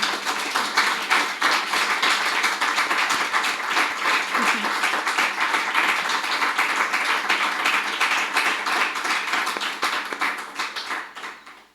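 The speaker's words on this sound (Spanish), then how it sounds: "Me parece que es un momento para poder dar un aplauso" Sustained audience applause after a talk about an artist's work, dense steady clapping from a sizeable crowd for about ten seconds before fading out at the end.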